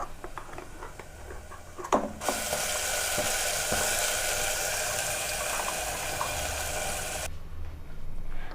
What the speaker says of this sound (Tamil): எல்லாத்தையும் சேர்த்துட்டு இப்படி வதக்கிடுங்க.